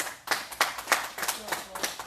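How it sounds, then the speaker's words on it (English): A group of students in an intermediate class clapping for a classmate, quick bursts of hand claps in an uneven rhythm with voices mixed in, close and lively. "Turn around and big clap for Clark."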